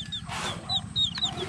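Chicks and black native chickens cluck softly on a rural farm in Occidental Mindoro, Philippines, with short high peeps and low clucks overlapping in a steady, fairly faint chorus.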